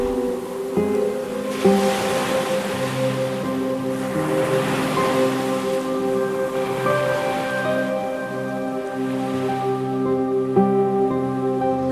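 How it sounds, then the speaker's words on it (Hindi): Sea waves wash steadily ashore in a continuous surf roar, with a soft melodic music bed layered over the rolling water. "आती जाती लहरों को और से देखता रहा।"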